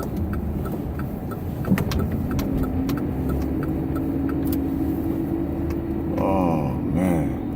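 A car drives onto a quiet residential street, its steady mid-range engine hum continuous and fairly close, rising briefly near the end as it turns or accelerates.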